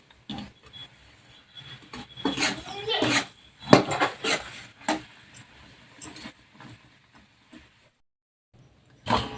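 A spoon clanks and scrapes against a pan in scattered bursts while thick peanut and jaggery syrup is stirred. Quiet gaps fall between the strokes.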